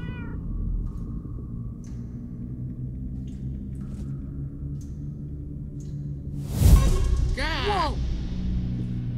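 Cats meowing in the video game Minecraft: Story Mode, a few faint mews early on, then a loud nearby yowl followed by a rising, wavering meow over a low game rumble.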